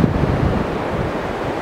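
Small waves washing onto a sandy beach at Galveston, a soft continuous surf wash mixed with buffeting wind noise on the microphone.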